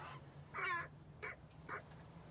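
Several harsh crow caws ring out one after another, fairly faint and somewhat distant, against a low steady hum.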